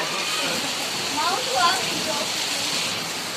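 A hailstorm's heavy rain drumming down in Bhavnagar as a constant broad rushing wash, steady and close, while a voice speaks faintly for a moment partway through.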